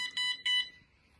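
Two short bursts of electronic beeping come from a Weida fishing bite alarm, sharp high-pitched tones close by, then silence.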